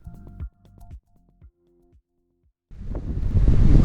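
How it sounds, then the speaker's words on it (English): Strong wind gusts buffet the microphone beside a small lighthouse on the ocean coast in winter, a broad roaring rush that swells loud and steady over the final second after a few quieter tonal sounds. "it's super windy"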